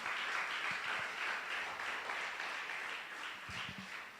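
Church congregation applauding the Lord during a Spanish-language sermon, a dense, distant wash of clapping at low level, steady with a few faint voices underneath.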